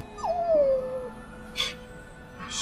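A stray dog whimpers close by for food, one long drawn-out whine sliding downward, then a couple of short fainter yips after a pause; no one speaks.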